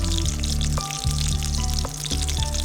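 Chopped onions frying in hot oil for a chicken curry, a continuous soft sizzle under steady background music.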